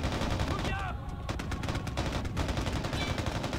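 Heavy machine gun fire in the war game Mercenaries: Playground of Destruction, rapid dense bursts of shots repeating over a constant battle din, with someone briefly talking over it.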